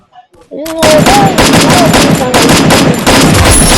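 Rapid bursts of automatic gunfire in a shooting video game, loud and dense, start abruptly after a brief quiet opening and continue almost without pause, with faint whistling tones threaded through the volleys.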